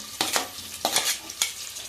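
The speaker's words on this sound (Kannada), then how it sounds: "ಈರುಳ್ಳಿ ಚೆನ್ನಾಗಿ ಫ್ರೈ ಮಾಡ್ಕೋಬೇಕು" Onions fry in hot oil in a pressure cooker as they are stirred. A few distinct scraping strokes sound over a soft sizzle, fairly quiet and close, with no talk.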